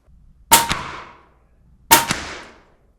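Two sharp, loud metallic impacts about 1.4 seconds apart as an airgun shoots nails into wood, each crack ringing out briefly with no talk.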